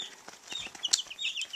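Two-week-old chicks cluck and peep in quick, high-pitched chirps, fairly close and fairly quiet.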